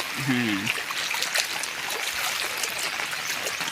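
Steady rushing of a rain-swollen stream flowing over rocks, continuous and fairly loud, with a brief voice heard near the start.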